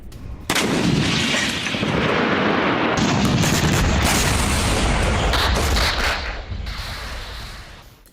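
Sustained loud gunfire and booming blasts from a Hezbollah ambush attack on Israeli soldiers, dense overlapping shots and rumbling explosions that fade toward the end.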